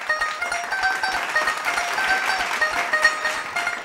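An audience at a Punjabi singing competition semi-final claps as a contestant walks on stage, a dense, steady round of applause filling the hall for about four seconds with no voices over it.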